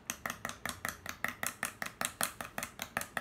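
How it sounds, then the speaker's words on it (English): Utensil stirring a ketchup, vinegar, brown sugar and spicy brown mustard sauce in a bowl, quick regular scraping clinks in a steady rhythm of about five strokes per second, close and soft. "Give that a good stir"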